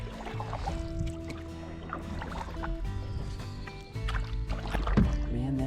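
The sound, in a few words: paddling a canoe across a lake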